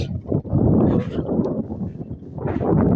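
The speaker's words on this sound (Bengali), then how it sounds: "বাতাস" Gusty wind at a ferry landing on the bank of the Sandhya River in Uzirpur, Barishal, Bangladesh, buffets the microphone in low, uneven rushes, loud and close, rising and easing a few times.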